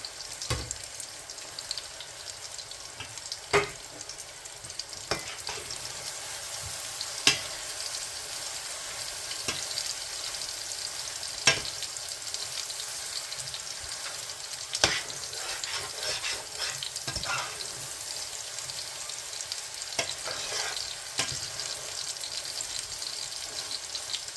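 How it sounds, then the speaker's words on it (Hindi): Okra frying with masala in a pan, a steady hiss of sizzling oil with regular sharp scrapes and taps from the stirring spoon, close up and with no voices over it. "अब भिंडी शामिल कर देंगे बिस्मिल्लाहिर्रहमानिर्रहीम और इसको भी भूनेंगे इसमें अच्छी तरह।"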